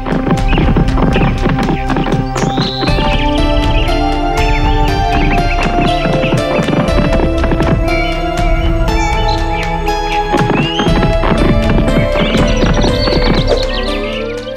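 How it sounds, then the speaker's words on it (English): A horse ridden up a hill by an armored rider in a children's princess story: steady clip-clop of hooves with a whinny, loud and continuous, set against a busy musical backing. "and rode his horse up the hill again."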